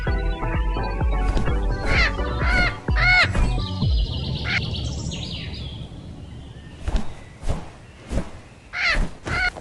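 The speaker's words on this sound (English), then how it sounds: "that annoying squawkity squawk noise in the background" Repeated bright, chirpy parrot squawks from a mobile parrot video game, coming in quick bursts over game sounds, then returning as several sharp calls near the end.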